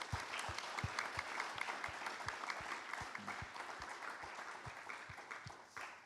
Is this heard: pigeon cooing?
no